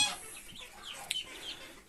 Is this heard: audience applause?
no